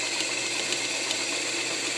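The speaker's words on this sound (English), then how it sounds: "So I'm going to start sewing for you." A vintage all-steel Singer Fashion Mate 237 zigzag sewing machine stitches steadily, its motor and needle making a continuous close mechanical whir with a fine rapid clatter and no pauses.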